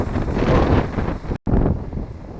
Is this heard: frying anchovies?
no